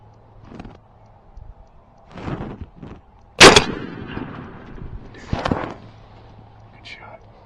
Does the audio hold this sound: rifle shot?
yes